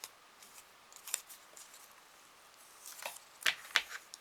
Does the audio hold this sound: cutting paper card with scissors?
yes